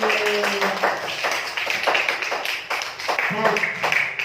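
Schoolchildren in a classroom lesson clapping softly and unevenly, light scattered claps with a teacher's voice and pupils' voices talking over them.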